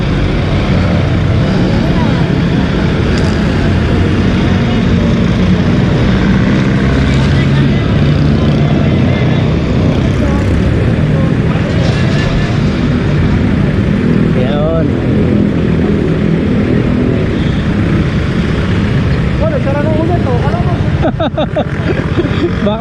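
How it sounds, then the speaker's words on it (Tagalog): Several motorcycles idle and warm up together before a group ride, a loud unbroken engine rumble close by, with people talking over it. "Ayan, papainit na kami ng makina."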